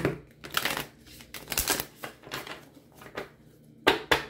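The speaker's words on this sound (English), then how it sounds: "One last shuffle for Gemini." Cards are shuffled up close in a series of quick riffling bursts and soft slaps, with short pauses between them.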